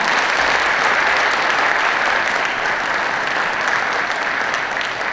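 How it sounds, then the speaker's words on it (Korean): A hall audience at a Busan awards ceremony gives a long, loud, even round of applause for an honoree, the clapping sustained and uniform throughout. "박수 한번좀 부탁드립니다"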